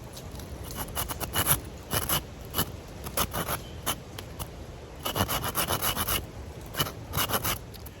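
Repeated short scraping strokes of a blade carving a reverse notch into wood outdoors, close by, in irregular bursts with brief pauses between them.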